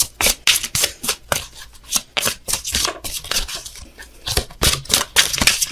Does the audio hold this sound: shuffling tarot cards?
yes